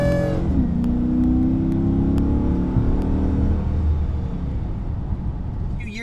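A 2015 Dodge Charger Pursuit with a 5.7 liter Hemi V8 revs up sharply, then holds a loud, steady deep engine roar close to the microphone, with a faint whir above it.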